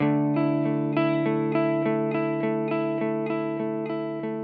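An electric guitar rings out a sustained chord, with notes on the 5th and 4th strings picked alternately in a steady, even rhythm, gradually fading.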